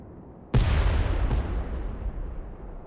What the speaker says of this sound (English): Sounded like an explosion.